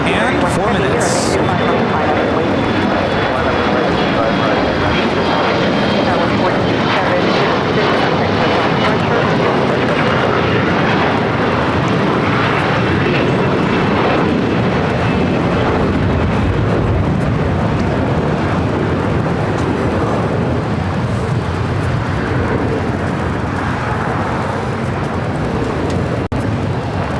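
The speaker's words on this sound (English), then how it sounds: "We do have a heavy arriving on the north side. It's the Air France 777 to 300 ER coming from Paris." Air France Boeing 777-300ER heavy jet arriving from Paris lands at LAX with a long, loud, broad engine roar and a thin high whine, fading slowly as talk continues over it.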